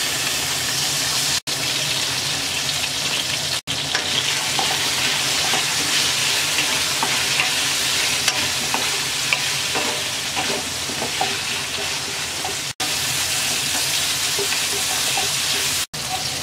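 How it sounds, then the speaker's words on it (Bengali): Cauliflower frying in hot oil in a pan with turmeric and salt, a loud, steady sizzle that runs throughout, with stirring scrapes and a few brief cuts. "প্রথমে ফুলকপিটা আমরা 3-4 মিনিট ভেজে নেব। দিয়ে দিচ্ছি সামান্য হলুদ, লবণ।"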